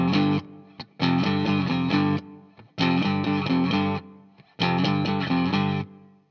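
Distorted electric guitar plays the main power-chord riff of the Kinks' You Really Got Me, three loud repeated bursts of short stabbing chords separated by brief pauses, with no voices.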